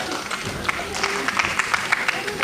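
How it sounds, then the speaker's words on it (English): Lively audience clapping at a children's school annual function in Bangalore, irregular claps and crowd noise with voices mixed in, fairly loud and close. "A big round of applause for our lovely couples"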